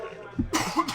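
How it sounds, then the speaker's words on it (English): Several rough coughs in quick succession from a person nearby, with a short burst of throat clearing between them. "Pizza cough."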